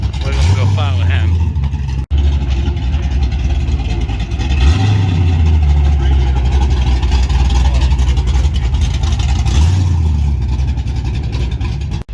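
Turbocharged car engine at a car show rumbles loudly and close, with low revs swelling in three repeated rises over a steady idle, while people talk throughout.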